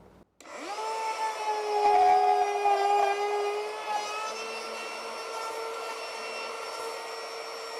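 A router bit cutting wood, whining at a steady high pitch with a rising then slightly falling drone, loud and close, running alone without talk throughout.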